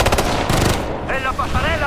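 Rapid bursts of automatic machine gun fire in the shooter game Ghost Recon: Future Soldier rattle loudly in short volleys, followed by a brief pause and a voice shouting in Spanish.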